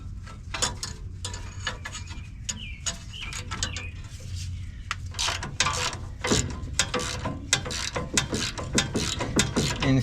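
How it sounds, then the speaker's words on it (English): A crescent wrench works a crusty ball joint bolt on a Ford F-250, giving repeated metallic ratcheting and scraping clicks in irregular bursts, close and fairly loud throughout, with no talking. "I'm just going to try to hold it with this crescent wrench for now."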